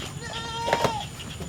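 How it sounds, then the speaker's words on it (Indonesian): A goat bleats a few times at a distance, wavering cries rising over outdoor background noise with no talk. "Ada suara kambing"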